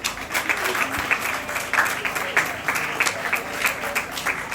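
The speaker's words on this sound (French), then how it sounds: "de vous applaudir chaleureusement" An audience applauds warmly at a ceremony honouring champions, a dense, even clapping that runs steadily throughout at close range, with a faint voice underneath.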